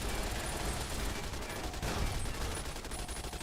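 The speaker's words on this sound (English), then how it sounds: "There's too much stupid crap shooting me." Dense gunfire aimed at the player in Fallout, a steady barrage of rapid overlapping shots, close and continuous throughout with no pauses.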